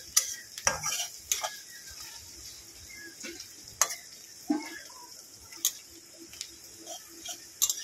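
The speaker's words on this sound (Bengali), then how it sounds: "পেঁয়াজগুলো একটু লাল লাল করে ভাজা পর্যন্ত আমি অপেক্ষা করব।" Onions frying in a pan while being stirred, a soft sizzle under repeated sharp scraping and tapping of the spatula against the pan.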